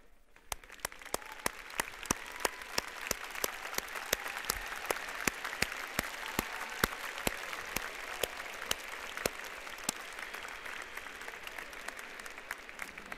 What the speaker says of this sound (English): ask our graduates to rise if they are able and to applaud tonight's audience